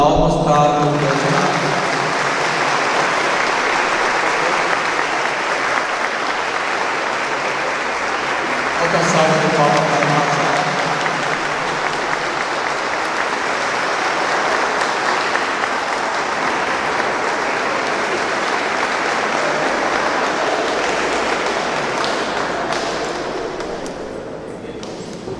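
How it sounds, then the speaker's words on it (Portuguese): Applause fills a Catholic-style wedding ceremony, a steady, dense clapping from the congregation that runs nearly the whole time, swelling briefly midway and fading slightly at the end. "uma salva de palmas para o Senhor"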